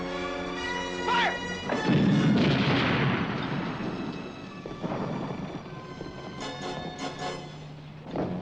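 A tank cannon fires in a wartime tank battle in a video game, one heavy, close boom that rolls into a long, rumbling decay under a loud background din.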